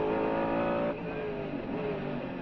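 Race car engine in the 24 Heures du Mans PlayStation 2 game, a steady droning high-revving note that drops slightly after a gearchange, continuous and fairly loud with no voices.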